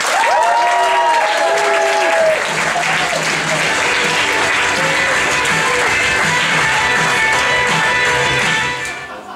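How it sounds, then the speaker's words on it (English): A comedy club audience breaks into loud, sustained applause and cheering for a comedian, with a host's voice briefly heard at the start before the clapping fades out at the end. "give him a big, big round of applause"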